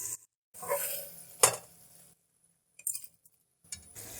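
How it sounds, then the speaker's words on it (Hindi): Meat and tomatoes tipped into a kadai with a sharp clang of metal, followed by brief sizzling and a few utensil clinks separated by silent gaps, close by. "अब हम इसको कढ़ाई में डाल लेंगे ताकि ये अच्छे से भुना जा सके।"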